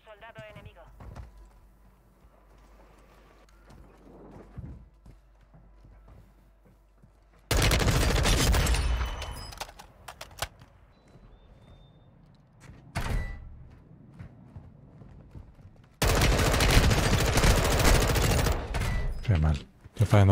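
Two long bursts of rapid automatic gunfire from Call of Duty: Warzone 2.0, loud and close, separated by quieter stretches with talking and a few single shots.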